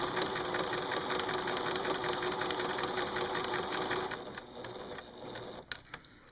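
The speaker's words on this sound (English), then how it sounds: "Gonna back stitch a little bit because if I get too close to that corner, it wants to bunch up." A sewing machine whirs steadily and close while back stitching an arrow quilt block, running for about four seconds before stopping, followed by a few small clicks and handling sounds.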